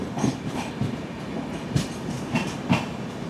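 16334 Trivandrum Veraval Express rolling along the rails, with steady rumbling and periodic wheel clacks over rail joints in a repeating rhythm, close and continuous with no talk.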